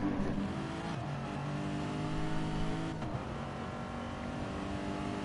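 Race car engines drone continuously at Bathurst in a racing video game, a steady loud roar with slight pitch shifts as the cars hold speed, no voices.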